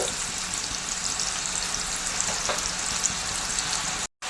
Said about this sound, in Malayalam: എണ്ണയ്ക്കകത്തോട്ട് ഒരു വലിയ സവാള അല്ലെങ്കിൽ ഇടത്തരം രണ്ട് സവാള ചോപ്പ് ചെയ്ത് ഇട്ട് കൊടുക്കുക